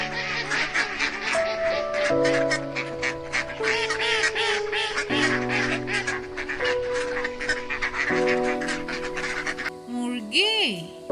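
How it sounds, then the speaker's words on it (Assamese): A duck gives a short quack near the end, heard over continuous background music and a speaking voice. "হাঁহক ইংৰাজীত কয়"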